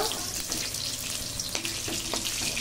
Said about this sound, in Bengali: পটল আম খুব ভালো করে আবারও ভেজে নেব।